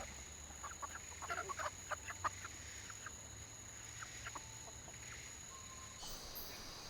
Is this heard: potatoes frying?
no